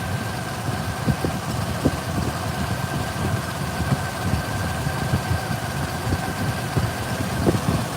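A misfiring 4.0L V6 in a 2007 Ford Explorer idles roughly, its steady low drone broken by irregular thumps and stumbles at close range, with no talking.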